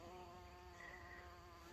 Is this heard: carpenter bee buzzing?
yes